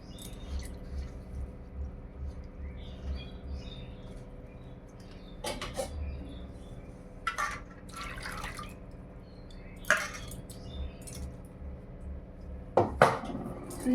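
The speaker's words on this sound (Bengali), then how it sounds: "সুজিটা আগে একটু জল দিয়ে ভিজিয়ে রাখি" Semolina soaking with water in a bowl in a village kitchen: quiet dripping and trickling with a few sharp clinks of the bowl and utensils spaced apart.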